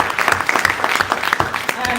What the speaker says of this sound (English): please give him a warm applause